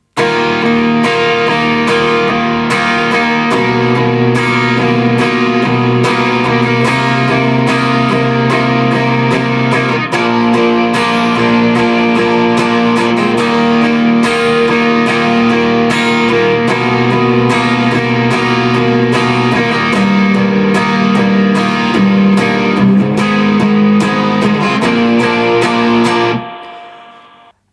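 Distorted electric guitar plays the second chorus of a song, a steady loud sustained run of power chords and riffs lasting nearly the whole stretch before cutting off abruptly at the end, with no talking.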